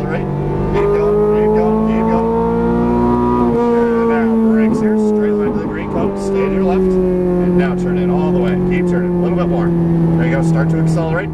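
Ferrari 430 Scuderia engine accelerating on a track course, loud and close, its pitch rising and falling through throttle changes over about eleven seconds, with an instructor talking over it.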